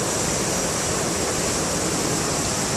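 Water pours steadily at the base of a waterfall in Khao Yai, a dense, unbroken rushing roar from close by with no voices.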